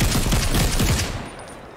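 Rapid burst of gunfire in a first-person shooter video game, a shotgun in the mix, loud close shots in quick rhythmic succession for about a second before fading into a quieter tail.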